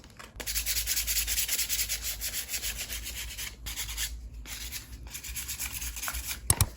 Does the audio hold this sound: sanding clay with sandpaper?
yes